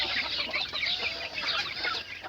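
A flock of 40-day-old chicks let outdoors keep up busy, close clucking and chirping, with overlapping calls and no pauses.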